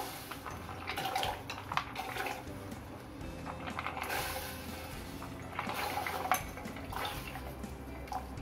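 Pasta goes into hot water in a cooking pot for a masala pasta, with soft clinks, light clattering and faint splashing. The sounds are quiet and close, in irregular bursts.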